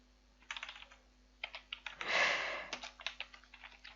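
Computer keyboard typing CSS code, with bursts of quick, close clicks separated by short pauses and a louder, denser flurry in the middle, set against a steady low hum.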